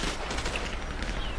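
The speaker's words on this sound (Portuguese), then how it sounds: "Ah, tô atirando." Rapid gunfire from the video game GTA San Andreas during a role-play shootout, a steady dense crackle of shots filling the whole moment with no pauses.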